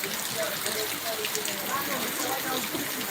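Heavy rain pours steadily outside a hotel in Banaskantha district, a dense, even hiss of falling water heard under someone talking.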